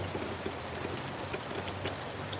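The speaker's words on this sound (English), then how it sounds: "this is what it looks like right now when the rain is falling" Steady rain falls in a yard in Jamaica, an even wash of patter with scattered drops striking nearby surfaces and no voices.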